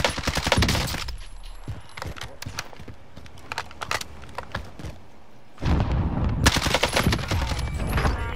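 Video game gunfire in a hectic combat match: dense bursts of rapid automatic shots, loud and clustered at the start and end with scattered single cracks between, and a voice briefly heard.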